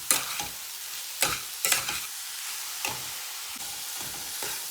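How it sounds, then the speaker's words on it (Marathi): Coconut rice with sugar being sautéed in a pan, spatula strokes scraping in several bursts over a soft continuous sizzle. "आता आपल्याला हे साधारण 2 ते 3 मिनिटं परतून घ्यायचं आहे."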